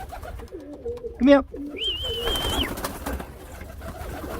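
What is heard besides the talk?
pigeons cooing in an aviary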